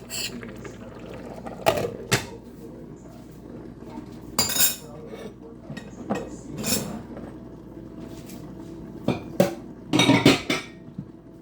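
Metal utensils clink and scrape against a pot and dishes while vegetables cook for ginataang dining ding, with sharp clatters scattered through steady low kitchen noise.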